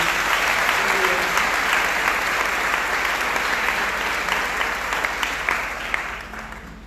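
Sustained applause from a church congregation at a Sunday worship and praise service, a dense steady wash of many hands clapping that fades slightly toward the end, with no talking over it.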